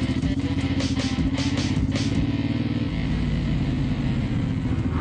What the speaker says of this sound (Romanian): ne bucurăm de motociclete